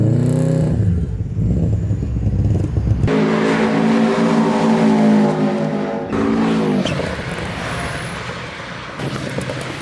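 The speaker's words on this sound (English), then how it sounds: "who doesn't love that boxer engine burble?" A Subaru GC8 Impreza's boxer engine burbles and revs at a Donington track day, the uneven rumble swelling and falling through several throttle changes, close and loud, with no voices.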